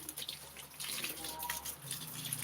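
Water pouring steadily onto flower pots in a home garden, a soft, continuous splashing and trickling at moderate distance with no one talking over it.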